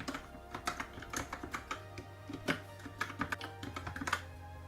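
Fingers type on a computer keyboard at close range, a quick irregular patter of soft key clicks over a low steady hum, with no voices.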